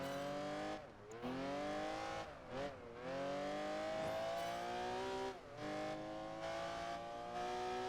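A Ferrari Enzo drifts on snow in Project Gotham Racing 4, its engine howling at high revs with a bright harmonic whine, briefly dropping off three times as the throttle lifts and then climbing again, loud and close throughout.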